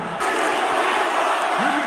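Wrestling arena crowd at a SmackDown event cheering for Roman Reigns, a loud sustained roar of many voices with scattered whoops that swells after a brief quieter opening and holds steady throughout.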